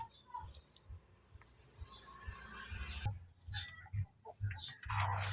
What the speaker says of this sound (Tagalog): Pakita ko po sa inyo mga kapanok yung ating inahin na naglimlim doon.